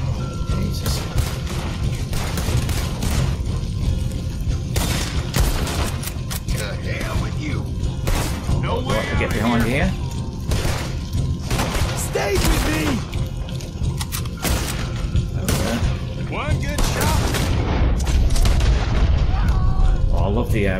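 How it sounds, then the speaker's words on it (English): Bolt action rifle shots in Red Dead Redemption 2, loud sharp reports scattered across a noisy battle with other gunfire and booms, while voices talk and shout throughout. "Bolt action rifle, it's got a right kick to it."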